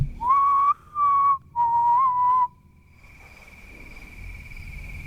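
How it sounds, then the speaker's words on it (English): At night in the Superstition Mountains, three clear sustained whistled notes ring out with short gaps between them, loud and close, then give way to a faint hum and quiet outdoor background. "Was that my whistle?"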